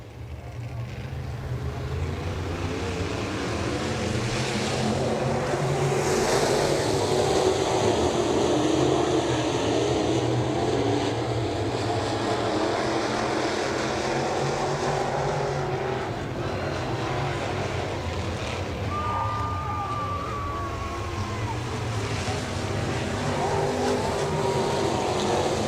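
B-Modified race cars roaring around the I-90 Speedway dirt track during a heat race, a continuous loud engine drone that swells and fades as cars pass, with a distant announcer voice mixed in.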